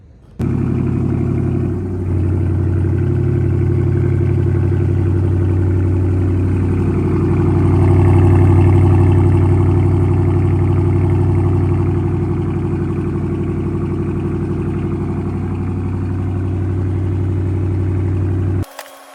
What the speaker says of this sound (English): So right now, I'm finna give y'all a quick cold start